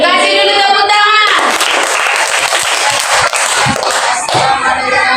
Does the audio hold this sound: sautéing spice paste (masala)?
no